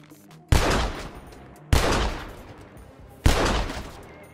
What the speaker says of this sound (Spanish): hay otros mods que le suman mayor realismo a los tiroteos, viéndose heridas más detalladas